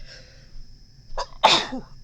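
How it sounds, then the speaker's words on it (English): One close, loud sneeze, a brief wheezy inhale and then a forceful burst, against a quiet room with a faint high tone. "I gotta sneeze again."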